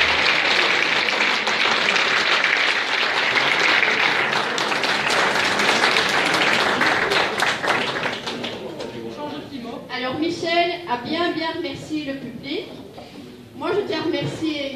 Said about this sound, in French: Allez, on applaudit, il faut.